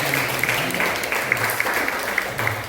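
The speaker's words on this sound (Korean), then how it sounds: "박수 한번 하겠습니다." Audience at a church service claps steadily and near for a few seconds, a dense patter of hands with no talk over it.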